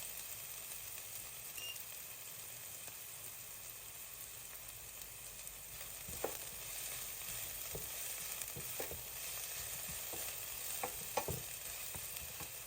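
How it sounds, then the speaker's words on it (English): Food frying in a pan on low heat gives a steady, close sizzling hiss with scattered sharp crackles and pops throughout; no one speaks. "So, as you can see, it starts to fry a little bit."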